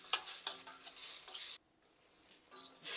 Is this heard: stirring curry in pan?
yes